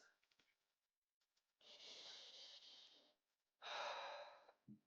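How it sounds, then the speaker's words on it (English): Two deep inhalations through the nose with a nasal intake band fitted, each a close, airy hiss lasting over a second, separated by a short quiet pause. "Go ahead and place it on your nose and take a deep breath."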